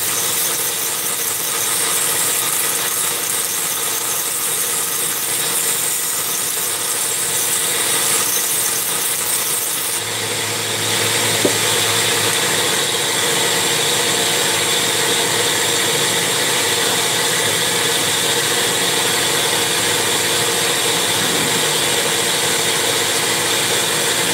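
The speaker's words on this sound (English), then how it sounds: "Looks like fine grinding to me." A Dremel rotary tool doing fine grinding gives a continuous high-pitched whine that grows brighter and louder partway through. It is heard alone, without talk.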